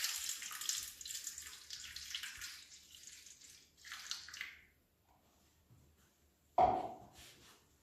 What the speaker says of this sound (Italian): rovescio in teglia dell'acqua bollente